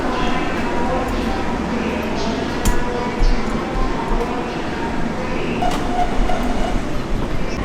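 A train rolls out from Jamaica station in New York with a steady low rumble and occasional clacks from the wheels and cars. Faint voices murmur inside the carriage.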